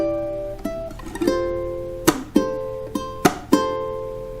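Ukulele strumming the chord pattern of a song, with sharp down-strums and slap accents ringing out alone in a close, uneven rhythm.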